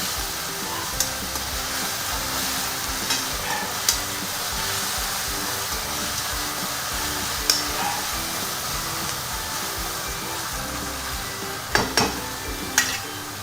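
Onion sautés in a pan, a close, continuous hissing sizzle with a few sharp clicks of a spoon scraping and stirring scattered through.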